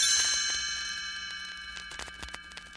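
A read-along book's page-turn chime rings once, a bright metallic ding that decays slowly over nearly three seconds, alone and fairly clear.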